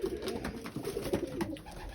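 Racing pigeons in a loft coo softly and steadily in low, rolling calls, close by over a faint background hiss, with no talk.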